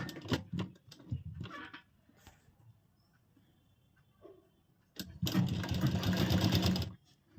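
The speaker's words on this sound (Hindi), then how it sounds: "इसी 1/2 इंच पे हम सिलाई लगाते हैं" A sewing machine stitches a princess-cut deep-neck blouse, running in one loud steady burst of about two seconds after scattered handling clicks and rustles.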